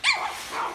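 A puppy gives a single short, high yip-like bark, close and alone, trailing off quickly.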